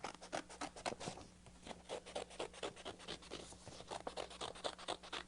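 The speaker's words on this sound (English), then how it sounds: "I'm going to take my scissors and I'm going to cut that heart out." Scissors snip through folded paper to cut out a heart shape, giving faint, close, repeated crisp cuts and rustles at a quick, irregular pace with no talking.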